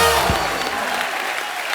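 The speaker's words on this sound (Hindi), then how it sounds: "एक बार जोरदार तालियां।" Studio audience applause on a Hindi comedy talk show, a loud, dense wash of clapping that starts at once and holds steady for a couple of seconds with no talk over it.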